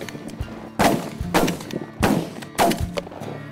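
Four loud shotgun blasts fire in quick succession during a snow goose hunt in fog, each sharp crack followed by a short echoing tail, with faint background noise between shots.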